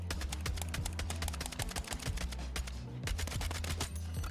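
Rapid, evenly spaced tap-fire gunshots from a weapon in the Battlefield REDSEC battle royale game, a dense loud run of sharp individual cracks with short pauses, over a steady low in-game rumble.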